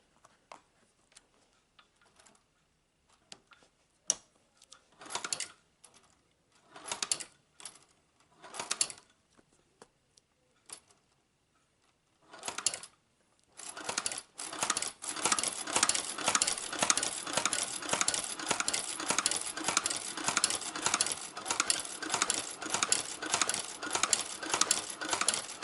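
A hand-cranked shoe patcher stitching Vans sneakers, first isolated clicks and short bursts, then a steady run of rapid, rhythmic mechanical stitching, close and alone.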